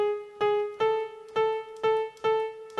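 Electronic keyboard playing part 2 of a song with single green-note melody keys: a repeating rhythmic pattern of bright, clean sustained notes, close and clear, no talking.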